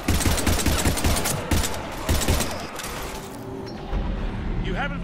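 Rapid automatic gunfire in the video game Mass Effect 3 fires in dense bursts during a chaotic battle, loud and close, with combat noise and voices shouting over it.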